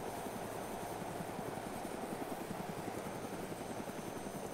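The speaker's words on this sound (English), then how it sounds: "I heard a helicopter on my side." A helicopter in the DayZ video game drones steadily at a distance, a continuous low rotor and engine rumble with no talk over it.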